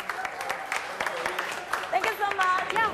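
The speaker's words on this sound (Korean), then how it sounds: "희재에게 뜨거운 박수갈채가 쏟아집니다." A street audience in a British city centre claps for a Korean pansori busker, steady light applause with a few scattered voices and cheers rising near the end.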